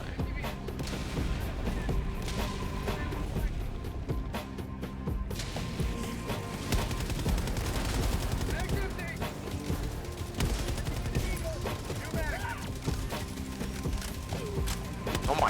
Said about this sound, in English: who loves their cluster bombs?